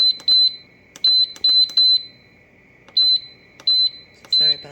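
A Nesco electric pressure canner beeping repeatedly, short bright electronic tones in quick pairs and triplets with pauses between, close and clear, with a voice briefly at the end.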